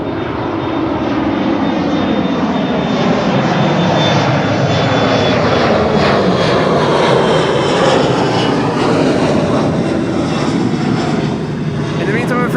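A jet airliner's engines roar steadily at Schiphol airport, loud and continuous throughout with a broad rushing whine, under faint background talk.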